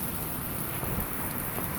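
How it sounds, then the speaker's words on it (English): Heavy rain pours down steadily during a lightning storm, a dense, constant hiss close by with no speech and no clear thunderclap. "It's raining hard. Look at that. So we got a lightning show."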